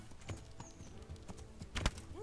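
Horse hooves clopping with brief whinny-like bursts from a heavily armored rider's horse in the medieval video game Kingdom Come: Deliverance, heard amid game ambience with a louder cluster of hoof hits near the end.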